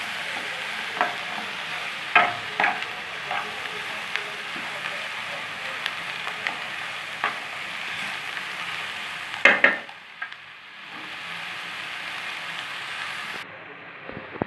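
Onions and peppers fry and sizzle in a pan as they are stirred, a continuous crackling hiss with occasional scraping clinks of the utensil, close and fairly loud, briefly dropping out near the end.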